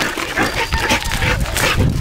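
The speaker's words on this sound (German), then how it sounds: "Die Hündin steht kurz vor der Niederkunft, gell Milan?" A dog, a female close to giving birth, makes a short burst of close, rough barking and whimpering sounds over about two seconds, with no talk.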